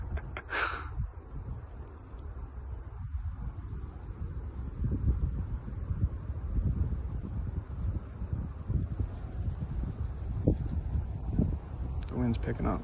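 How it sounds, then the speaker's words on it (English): Wind gusts outdoors, a steady low rumbling buffet across the microphone that holds throughout, with faint rustling and occasional breathy sounds up close. "The wind's really picking up."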